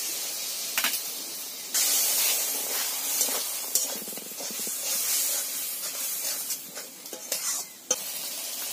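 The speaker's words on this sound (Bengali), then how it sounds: "এতে এখন সামান্য পরিমাণে জল দিলাম মশলার বাটিটা ধুয়ে।" Washing water from the spice bowl poured into a hot pan of frying masala for a fish and bottle gourd curry, giving a loud, sustained hiss and sizzle with intermittent stirring scrapes and no talking.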